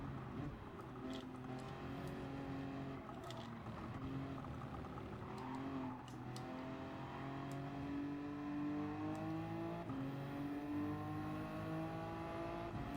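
Race cars lapping Suzuka in a six-hour endurance race in Gran Turismo 7, with steady engine drone and rising, shifting revs from several cars running together, fairly quiet and continuous.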